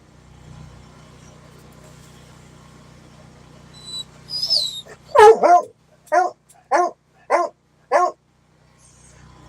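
A dog barks in the middle of the night indoors, first a few whimpering yips, then a run of loud, evenly spaced barks close by, with quiet before and after.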